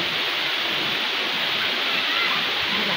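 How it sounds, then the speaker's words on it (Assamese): Waterfall in a hilly area, its dense steady roar of falling water filling the scene at close range from start to finish, loud and unbroken with no other sounds standing out. "এতিয়া আমি গৈ আছোঁ এই জলপ্ৰপাতৰ ওপৰত"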